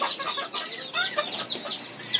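Several chickens cluck and chatter close by in quick, overlapping calls, with no talking.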